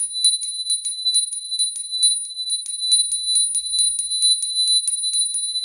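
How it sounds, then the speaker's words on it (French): A small bell is rung repeatedly in quick tinkling strikes, bright and clear against near silence, each ring ringing briefly before the next, with no speech. "Je vais simplement faire teinter la petite cloche."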